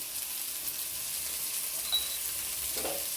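Onions and spices with turmeric powder sautéing in a pan for fish molly, a steady close sizzle with a faint scrape of stirring near the end.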